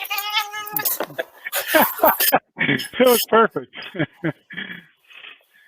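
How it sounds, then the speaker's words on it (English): A cat meows loudly and close at the start, a drawn-out cry, followed by people talking over an online conference call. "Excuse my cat."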